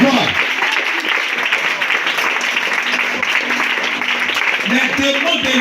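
A church congregation applauding and cheering to acclaim the Lord during a prophetic prayer service, steady loud clapping filling the whole stretch with voices calling out over it.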